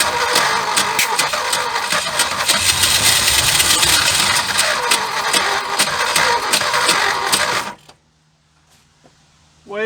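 A 1976 Ford F150 pickup abandoned for over 30 years, running roughly with a loud ragged engine roar and sputtering, then cutting out abruptly into near silence before a brief rumble returns at the end.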